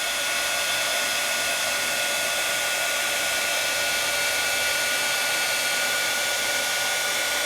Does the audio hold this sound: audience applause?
no